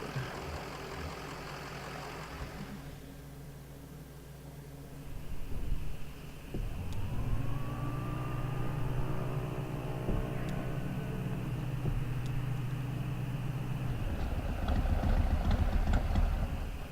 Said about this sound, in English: The truck's engine sputters and dies as Conway guides it carefully off the road next to a fallen tree.